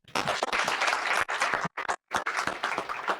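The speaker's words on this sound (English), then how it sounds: "Please give them a hand." Audience applause for a conference panel on digital lending in Africa: a loud burst of clapping from a large room, sustained for a few seconds with two brief gaps, no voices over it.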